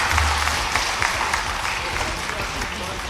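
Applause from an audience at a live political address in Kolkata, a steady mass of clapping with a crowd murmur beneath, constant and moderately loud throughout.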